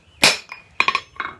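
Hand-forging hot steel into a campfire fork as a hammer hits a chisel to split the bar: one hard ringing metallic strike, then a quick cluster of lighter rebounding clinks and a final softer tap, close and clear with no talk.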